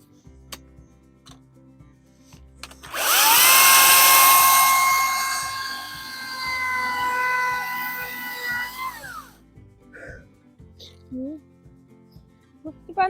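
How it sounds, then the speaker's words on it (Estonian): A power saw cuts through a branch while stones are set under fence posts. The motor whines up suddenly, holds a steady harmonic drone for about six seconds, then winds down, leaving faint knocks and handling noises. "Ma pean korra saagima."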